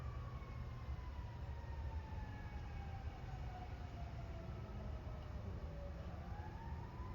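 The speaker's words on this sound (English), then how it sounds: "You hear the sirens?" Distant sirens wail with slowly falling and rising pitch, faint and steady beneath a constant low rumble of background noise.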